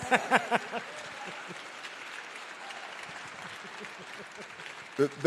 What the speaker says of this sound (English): Let's give Louis Carr a round of applause